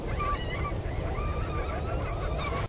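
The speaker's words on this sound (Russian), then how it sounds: "А чайки меня поддерживают." Seagulls call repeatedly near icy water, their harsh honking cries rising over a low rumble of wind or surf, fairly close and continuous for a few seconds.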